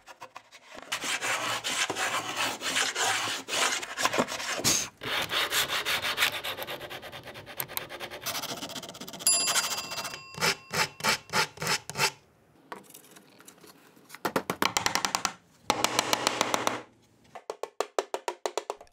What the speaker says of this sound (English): the only way I know how to fix it is with a router plane